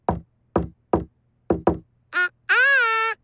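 A secret knock on a door in a children's cartoon: five crisp knocks in an uneven rhythm, two, then one, then a quick pair, followed by short cartoon voice sounds.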